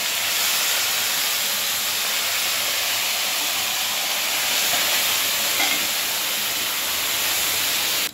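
Mutton for a rezala is lowered into hot oil and ghee with tempering spices, setting off a loud, steady sizzling hiss that runs unbroken and close throughout.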